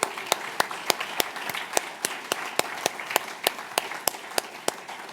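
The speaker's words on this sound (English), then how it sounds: "Yeah, we're gonna clap them up." At an entrepreneurship bootcamp gathering, a small audience claps for team members, a steady run of applause topped by sharp, evenly spaced loud claps from one nearby person.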